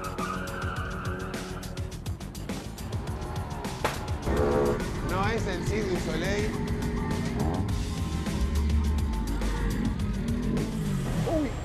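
A continuous rumble of cars passing on a neighborhood street, with engine surges and tire noise, continues under people talking nearby.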